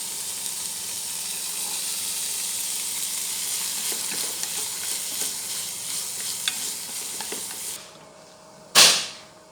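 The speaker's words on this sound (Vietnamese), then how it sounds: "Sau đó cho phần bắp hạt còn lại vào xào luôn." Corn kernels stir-fry in a pan with meat, garlic, carrot and wood ear mushroom, giving a steady close sizzle broken by scattered scraping clicks of a utensil; the sizzle drops away near the end before one brief loud clatter, with no talking.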